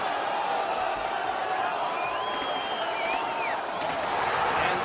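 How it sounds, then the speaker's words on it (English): Hockey arena crowd on its feet during an NHL game between Detroit and Dallas, a steady, dense roar of cheering and shouting sustained throughout at a fairly loud level, with a few whistles rising above the din. "The crowd is on their feet, and they're trying to give their teams a little spark."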